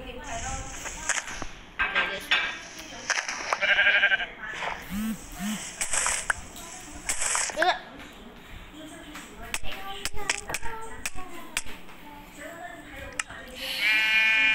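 Sheep in the video game Minecraft bleat in a few short, wavering calls amid clicky game sound effects, with a voice talking over parts of it.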